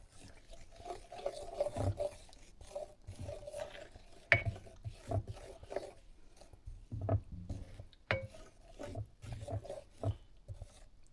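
Parmesan cheese being stirred into a creamy chicken pasta in a pan, giving soft, faint rubbing and scraping sounds with occasional sharper utensil knocks, steady and close with no talking.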